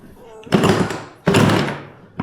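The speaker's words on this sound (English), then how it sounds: "I heard the door closing" Two heavy door thuds about a second apart, each followed by a short ringing decay, close by and loud, with a third starting at the end.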